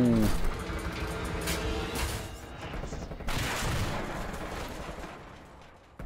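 Gunfire in the Call of Duty Black Ops Cold War campaign, Ural Mountains mission: a sustained fusillade of rapid shots and booms running several seconds at moderate loudness, with a voice talking over it.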